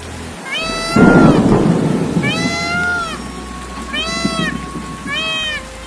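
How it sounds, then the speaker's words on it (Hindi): A loud thunderclap rumbles over steady rain, while a cat meows repeatedly in drawn-out cries through the storm. "अचानक एक दिन तेज बारिश होने लगती है"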